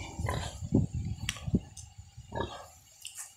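Pigs grunting on a livestock farm, a series of low, close, irregular grunts and snorts with wet shuffling noises between them.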